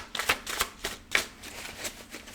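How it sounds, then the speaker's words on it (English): Tarot cards riffle and slap together in quick, crisp bursts, a close-up shuffle repeated several times with short pauses between. "We're going to keep shuffling."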